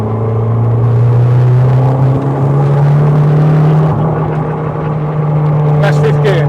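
A Ford Fiesta Mk6 with a swapped, drive-by-wire engine cruises in fifth gear, giving a steady, loud droning engine hum that rises slightly in pitch over a constant road rumble.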